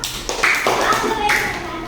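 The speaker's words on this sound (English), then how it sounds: "Please give her a clap." Children in a summer camp group applauding a classmate who receives a certificate, a brief burst of scattered claps and taps mixed with voices and chatter in the room.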